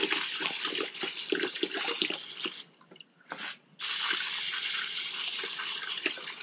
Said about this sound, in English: So let's go ahead and rinse these things off.